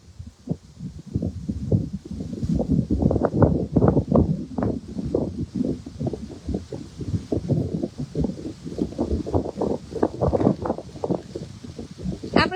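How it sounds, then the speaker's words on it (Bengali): Strong wind gusts by a village pond buffet the microphone in a low, irregular rumble of rushing bursts that rise and fall for the full stretch, loud and close, with no speech. "এখানে এত বাতাস এত বাতাস।"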